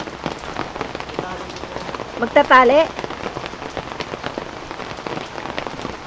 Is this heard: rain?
yes